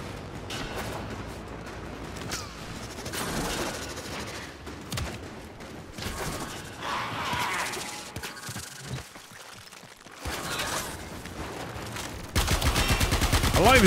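Pistol fire in the video game Warframe, repeated sharp shots over busy game effects and music, growing denser and louder toward the end.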